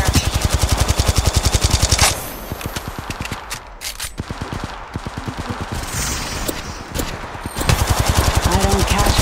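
Rapid automatic gunfire in Apex Legends Mobile, a loud steady stream of close shots in bursts at the start and end, with quieter firing and game sounds between.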